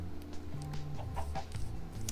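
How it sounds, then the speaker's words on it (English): Chickens in the video game Minecraft cluck repeatedly in short, overlapping calls, with a steady hum underneath and no talking. "Just gonna come home with a million chickens."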